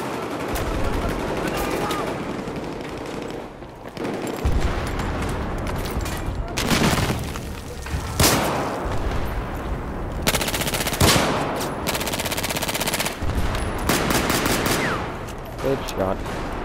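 Rapid automatic gunfire from Battlefield 4 fills the scene in dense, loud bursts with short gaps and heavy booms, nearly continuous throughout.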